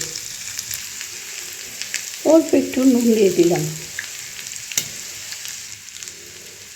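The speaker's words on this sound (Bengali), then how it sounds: "হাই ফ্লেমে রসুনটা চিংড়ি মাছের সাথে ভাজছি।" Garlic frying with prawns in a pan over a high flame, giving a steady close sizzle throughout, with a short spoken remark partway through.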